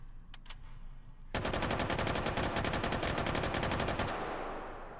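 M249 machine gun in the video game H3VR, a couple of single shots followed by a loud sustained automatic burst of rapid, evenly spaced rounds that cuts off abruptly into a fading echo.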